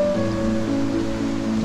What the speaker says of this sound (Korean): 물소리와 함께